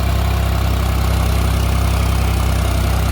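A New Holland 3630 4x4 Super Plus tractor engine running close by, a loud, steady diesel throb with a constant low rumble and even pulsing, no other sounds.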